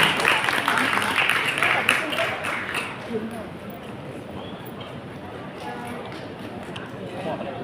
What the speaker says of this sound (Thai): ขอเสียงปรบมือดังๆ